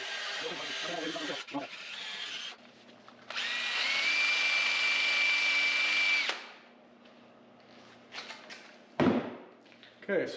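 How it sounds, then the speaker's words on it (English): A cordless drill spins a wire brush in bursts, whining and scraping against a metal wheel hub part of a 2020 Polaris Ranger XP1000 for a few seconds, then stops, followed by quieter handling clunks. "I am going to clean this one off with just a wire brush end on a cordless drill."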